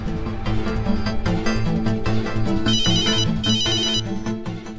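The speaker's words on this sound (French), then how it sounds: "Je vais appeler Zara plutôt" Phone ringtone in a French drama series as a call is placed, a loud melodic electronic ring repeating steadily for several seconds, alone without talk.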